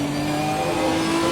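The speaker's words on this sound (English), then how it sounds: "There's a faster class car behind." Race car engine in Assetto Corsa Competizione during a multi-class race at Silverstone, with GT3 and GT4 cars, a steady loud drone with a slight rise in pitch over a short stretch and no talk.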